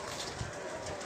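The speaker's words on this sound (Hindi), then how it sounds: "देखो कितने प्यासे कबूतर हैं।" Pigeons coo softly amid a steady background hum, with low murmuring calls rising faintly now and then, in Faisalabad, Pakistan.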